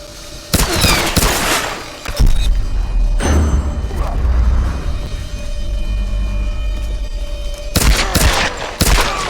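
Pistol gunfire in the Tomb Raider video game, heard as loud sharp shots and bursts. The opening and closing volleys are the strongest, with rumbling thuds between them and no speech.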